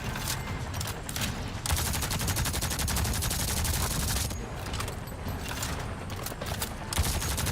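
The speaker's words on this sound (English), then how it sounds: "Who's that shooting me?" Dense, sustained gunfire from a first-person shooter, Avatar Frontiers of Pandora, with rapid automatic bursts running continuously and loudly for the whole stretch, thick with rattling shots and no pauses.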